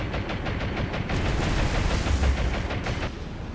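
Naval guns of a light cruiser firing in the naval combat game War on the Sea, a loud, continuous barrage of heavy booms and rumbling blasts that overlap into a dense, rolling roar.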